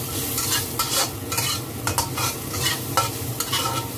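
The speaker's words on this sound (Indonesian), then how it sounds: "Oke, kita tumis seperti ini." Tuna stir-fried in a pan with sugar, salt and chicken powder, with a steady close sizzle and repeated scraping strokes of a spatula throughout, no voices.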